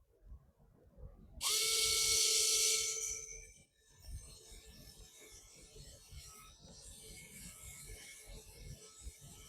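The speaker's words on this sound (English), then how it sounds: "Then I gotta do the same thing where I drill into the legs." A high-pitched power drill whines loudly for about two seconds boring into solid wooden legs, then stops, leaving faint scraping and handling noises afterward.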